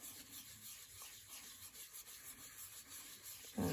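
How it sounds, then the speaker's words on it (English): Foiled card being rubbed to lift settled ink, a soft steady scratchy rubbing close up, quiet and continuous with no voices. "And just give that a little bit of a rub,"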